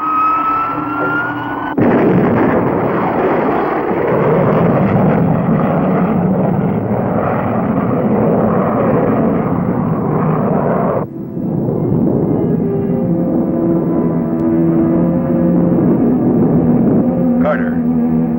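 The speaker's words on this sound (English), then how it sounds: "All go here, Skipper. Blasting off." A cartoon spaceship rocket launches with a loud, sustained roaring blast that shifts to a changed rumbling tone partway through, steady and continuous and filling the whole stretch, with hardly any voice over it.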